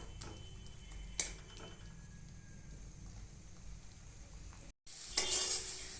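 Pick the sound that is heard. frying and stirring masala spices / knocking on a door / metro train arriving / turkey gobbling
frying and stirring masala spices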